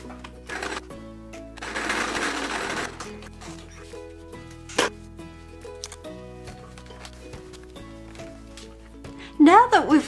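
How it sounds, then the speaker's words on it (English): A home sewing machine stitches quilt triangle pieces together in a short whirring burst, heard over soft background music with talk. "Our first step in creating our full bands is to stitch the 2 triangle pieces together first."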